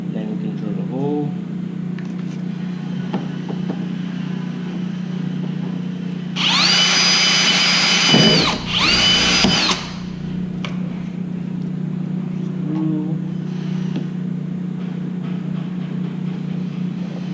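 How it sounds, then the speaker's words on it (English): A power drill whirs loudly in two short bursts, drilling a hole while fitting universal car side skirts, close by, with a low steady hum running through the background. "Then we can drill the hole."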